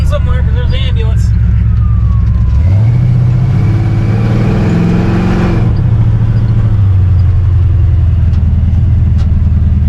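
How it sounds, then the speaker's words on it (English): A siren wails and sweeps in pitch as an emergency vehicle passes close by, with engine rumble loud underneath. "Must have a run somewhere because there's the ambulance."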